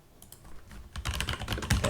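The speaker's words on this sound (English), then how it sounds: "what I'm going to do is just type in the code that I have here" Quick clattering keystrokes as code is typed on a computer keyboard, sparse taps at first, then a denser, louder burst of rapid typing close to the mic.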